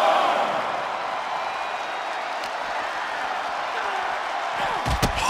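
A WWE 2K24 arena crowd roars in a steady, loud wash of cheering and applause, ending with a couple of heavy thumps.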